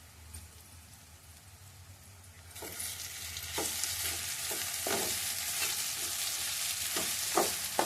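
Fish curry with salt, chili, ginger paste and masala being stirred in a pan, starting quiet before a steady sizzle rises, with scraping strokes and clinks of a spoon, close but fairly soft, no voices.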